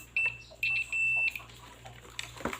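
An induction cooker's buzzer sounds three short, shrill electronic beeps, the last one longer, followed by faint clicks and handling noise near a workbench during repair of an Error 9 fault.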